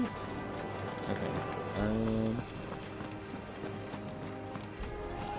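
Chocobo running footsteps in Final Fantasy XVI, a quick rhythmic clip-clop of a bird mount galloping close by, with a brief whinny-like call and soft game sounds beneath.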